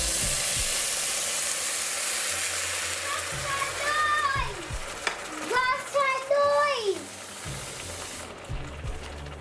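Dry vermicelli toasting in a pot for Trini sawine, with scraping stirs and a soft sizzle under quiet background sounds.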